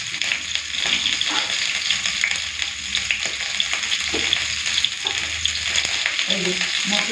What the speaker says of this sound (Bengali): ফুলকপিটা পুরো লাল করে ভাজা হয়ে গেছে, তুলে দিই।